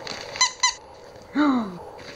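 A squeaky toy, a Christmas gift, squeaks twice in quick short bursts, then lets out one longer, louder squeak that falls in pitch, all close by and clear with no talking over it.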